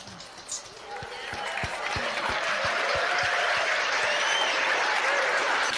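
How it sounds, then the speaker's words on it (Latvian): Audience applause at a conference, swelling from a thinner start into a dense, steady roar of many hands, with a few heavier regular thuds underneath and some voices mixed in. "Nu, dārgie ACK konferences dalībnieki, kā būtu ar kārtīgiem aplausiem Džeimsam Korvetam?"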